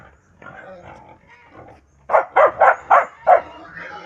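Two dogs on a rural Philippine farm where pigs are kept bark in a run of five quick, loud barks, preceded by softer background murmurs and mixed sounds.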